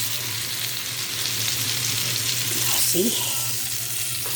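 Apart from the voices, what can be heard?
tortang talong (eggplant omelette) frying in hot oil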